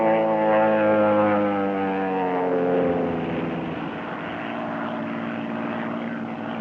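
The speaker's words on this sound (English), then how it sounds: "That plane is coming down awfully fast. Yes, it's coming right over us. Sounds like a power dive." Old-time 1936 radio drama effect of a propeller airplane in a power dive, a loud droning roar whose pitch slides steadily downward as it sweeps overhead, then settles into a rougher, steady rumble.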